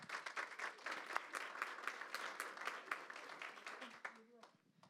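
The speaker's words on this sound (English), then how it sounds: "Please give her a round of applause." Audience applause at a school district town hall meeting, dense clapping filling most of the clip before fading out near the end.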